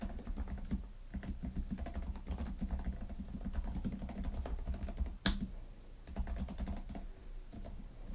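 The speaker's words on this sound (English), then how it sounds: "we'll do the little typing test here" Rapid, continuous clacking of a Varmilo Minilo 65% mechanical keyboard typed at a steady pace during a typing test, close up, with one sharper tap near the end.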